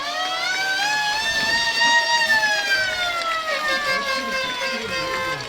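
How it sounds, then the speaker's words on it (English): A loud, sustained air raid siren wails at an eighth-grade football game, its pitch slowly rising and then gradually falling in a long drawn-out sweep. "Sounds like an old military siren there. You talking about an air raid siren?"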